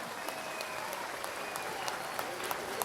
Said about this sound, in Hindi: लेट्स टेक एक जोरदार तालियां